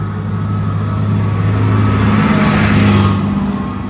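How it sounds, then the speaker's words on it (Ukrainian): A tractor engine rumbles steadily close by, a low droning hum that swells slightly as it passes, with no voices over it. "Давай припустимо тракторець, бо через нього нічого не чути."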